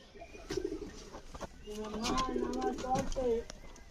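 Pigeons coo softly in low rolling bursts near their chicks, close and fairly quiet, with a person talking alongside and a few light knocks in the background.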